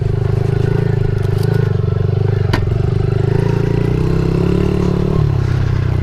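A Suzuki DRZ 70 dirt bike with 10-inch wheels being ridden over bumpy ground, its small engine droning steadily loud and close with slight rises and falls, plus a sharp clatter partway through.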